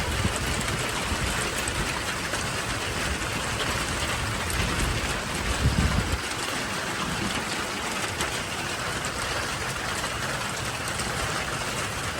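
Rain falling steadily during a night of camping by rice fields while fishing, a dense continuous hiss at constant loudness with a brief low rumble near the middle.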